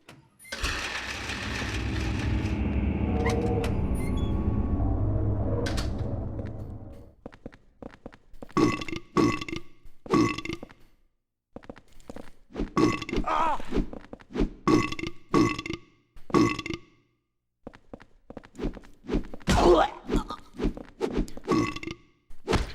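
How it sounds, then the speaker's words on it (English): Burping nurse monsters in the Silent Hill 4: The Room video game, a long, loud, gurgling belch followed by a string of short, guttural burps and grunts in uneven bursts. "the burping nurses are a real problem when they get swinging"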